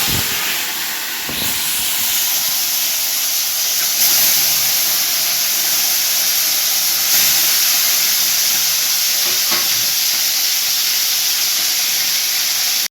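Koi fish sizzling in hot mustard oil with black cumin, a loud, continuous bright hiss and crackle that runs steadily throughout and is heard close up, with no talking.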